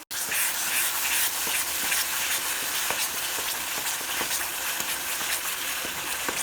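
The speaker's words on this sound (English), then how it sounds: "Give it a good stir around." Mixed fruit kheer simmering and spluttering in a pot is stirred, a continuous soft bubbling hiss with light scraping strokes close by.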